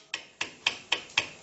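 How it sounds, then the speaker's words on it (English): Hammer tapping the rewound winding of a microwave oven transformer being built into a small spot welder: five evenly spaced, sharp metallic taps, close and moderately quiet, with no talking. "when you tap it with the hammer, you don't actually damage the inner rubber"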